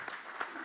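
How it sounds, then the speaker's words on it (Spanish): Audience applause at a Venezuelan government housing event, a brief steady burst of clapping from a crowd, moderately loud and continuous. "No, un aplauso para los trabajadores,"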